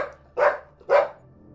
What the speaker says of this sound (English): I woke up again to Austin barking from downstairs